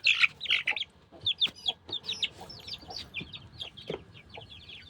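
Yellow chicks of a pet rooster peep in rapid, high, overlapping chirps, joined by low clucking from chickens, all fairly close and moderately loud.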